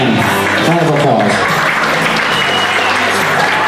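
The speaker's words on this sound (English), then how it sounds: "let's give him round of applause" Wedding guests at Alex and Erica Laird's wedding applaud the couple in a dense, steady round of clapping that carries on evenly throughout, with some voices mixed in.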